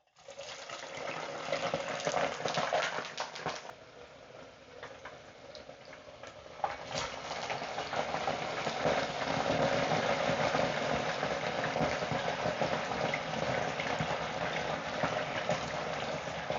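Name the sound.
fries cooking in a deep fryer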